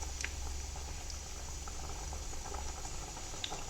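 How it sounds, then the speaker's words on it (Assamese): Banana flower curry gravy simmering in a pan, a steady low bubbling with faint scattered pops and light patter throughout, fairly quiet and with no voices. "সেয়া উতলি আছে ধুনীয়াকৈ।"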